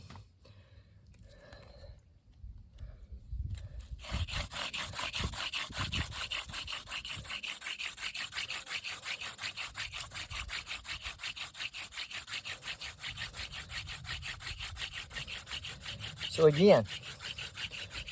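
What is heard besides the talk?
hand drill friction fire making, wooden spindle rubbing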